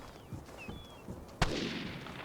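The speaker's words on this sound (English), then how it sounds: "You hear those gunshots?" A single sharp gunshot rings out in the Vigor video game, followed by a lingering echoing tail, with faint background game ambience and a few quieter thuds beforehand.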